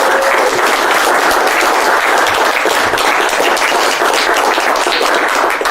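A live audience bursts into loud, sustained applause following a card magic trick, a thick, even roar of clapping close and full for several seconds with no talking.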